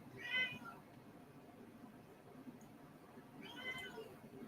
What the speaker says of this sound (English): my cat is next to my drawing table and like just meowing her full head off